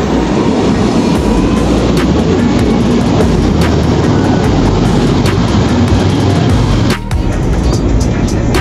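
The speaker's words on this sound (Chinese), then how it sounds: "搭火车去北海逛逛。" A train travels toward Butterworth in Penang, producing a loud, continuous rumble and roar from inside the carriage, with faint periodic clicks over the rails and a brief dip near the end.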